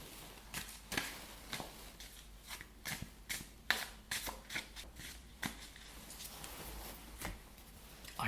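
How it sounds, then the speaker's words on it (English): Tarot cards shuffled by hand, a series of quick papery riffles and taps repeating irregularly, close and fairly quiet with no talk. "Holding the idea in my mind, I shuffle the cards."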